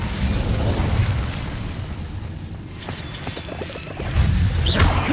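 Incendio fire spell cast in the video game Hogwarts Legacy, a loud whooshing burst of flame with rumbling, crackling blasts that surge again near the end, dense and close.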